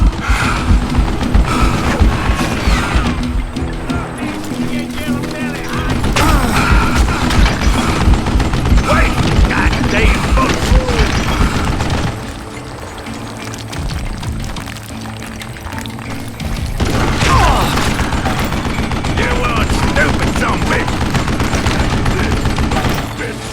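Sustained bursts of mounted machine-gun fire in the Western shooter game Call of Juarez: Gunslinger, loud and dense for most of the stretch, easing briefly midway before resuming.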